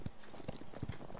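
Horse hooves clip-clopping in the Paladins video game, a few sharp knocks spaced unevenly across a short moment, steady and fairly close under a constant game background with no talk.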